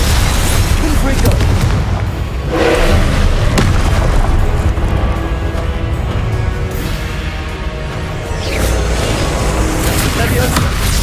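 The Confringo spell sets off repeated booming blasts in Hogwarts Legacy during Percival Rackham's Trial. The loud, rumbling explosions run through the whole stretch with a voice partly audible beneath them.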